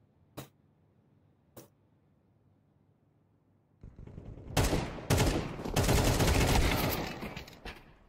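AK rifle gunfire in a competitive Counter-Strike-style shooter match, two sharp isolated shots followed after a pause by loud sustained bursts of rapid automatic fire with overlapping shots.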